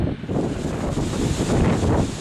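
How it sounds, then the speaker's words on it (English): Strong wind blows continuously across a hilly UK farm, rumbling against the microphone in a steady roar with no voices. "Oh, the wind blows."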